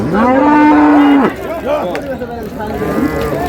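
A cow lets out a long, loud moo up close at a rural livestock market among dairy cows and calves, followed by busy chatter of buyers and sellers bargaining in the background.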